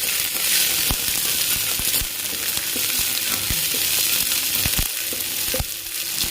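Thinly sliced large onions sauté in a pan for a potato tomato kurma, giving a steady close sizzle with sharp intermittent clicks of a spoon stirring against the pan.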